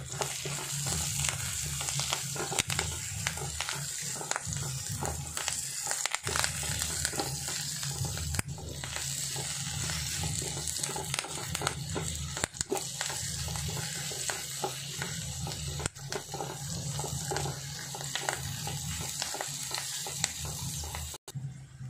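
Curry leaves fry in hot oil for tomato chutney, giving a steady crackling sizzle with occasional stirring scrapes and sharp pops, close and continuous for over twenty seconds, no voices.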